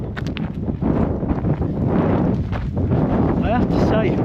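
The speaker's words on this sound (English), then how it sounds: "Hat nearly blew off, so it's in my pocket now because it's going to go in this wind" Strong wind gusting across an exposed hillside path near a windmill in Wales, roaring steadily into the microphone throughout with a few brief rustles and no talk.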